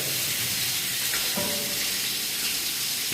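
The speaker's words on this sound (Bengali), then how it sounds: "তো এখন আমরা ভেজে নেব আমাদের মুরগি" Chicken fries in a pan with a dense, loud, hissing sizzle, steady and close, with a brief clink partway through.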